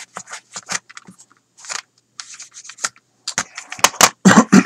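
Rubbing and polishing the edges of a scratched plastic CD jewel case, quick bursts of dry scrubbing and squeaky friction in short irregular strokes, close up, with brief pauses between passes.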